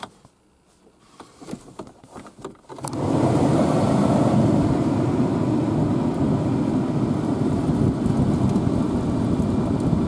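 A Jeep Cherokee XJ's blower motor kicks on at full speed after a few quiet seconds of faint clicks, then roars steadily in a loud broadband whoosh with small plastic bits rattling out of the vents.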